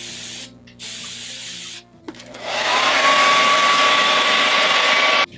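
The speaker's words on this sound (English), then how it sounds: "then I just reinforce the curls and hairspray them wherever I want." Hairspray is sprayed onto a styled wig in a few short hisses, then one long sustained close spray lasting several seconds before it cuts off.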